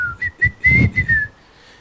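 A preacher whistles a bright, cheerful tune to imitate a happy person, a rising then steady warbling line broken into several short phrases, close and loud, with breathy low sounds under it and no speech.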